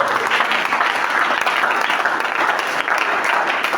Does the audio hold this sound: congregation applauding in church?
yes